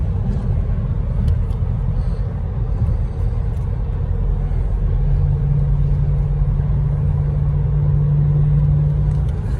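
Jeep SRT driving on a road, a steady low rumble of engine and road noise from inside the cabin with a faint sustained drone appearing midway, no talking.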